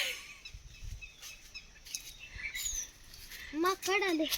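Sharp, rapid chirps from a sparrow, a quick run of bright calls near the end, over faint background noise and a low thump or two.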